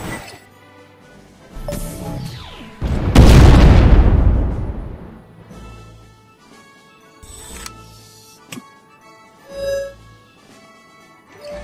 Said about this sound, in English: Use the autonomous tactical orbital shot against the group of enemy targets.